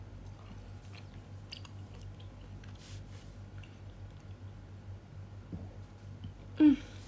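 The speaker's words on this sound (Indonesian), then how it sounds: "aku kayak terlalu cepat mengunyah dan terlalu cepat makan" Someone eating during a livestream makes faint close-up chewing and biting sounds, soft wet squishes and small crunches over a low hum, with a brief louder noise near the end.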